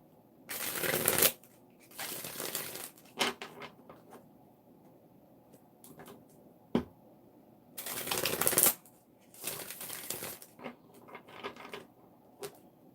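Tarot cards being shuffled, several loud riffling bursts separated by quieter handling taps and soft paper rustles, close and with no talking.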